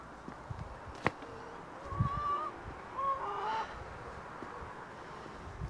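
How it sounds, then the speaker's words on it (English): Backyard hens in a garden run give a few soft, short clucks at moderate distance over a quiet outdoor background, with a single sharp tap early on. "Obviously I came up to check the chickens."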